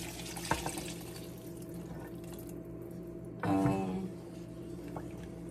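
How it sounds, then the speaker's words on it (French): Water poured from a cup into a pot for okra and plantain soup with pigeon peas and onions, a faint splash and trickle that swells briefly after some light drips and clinks. "J'ai ajouté une tasse, on va dire 5 tasses d'eau au total."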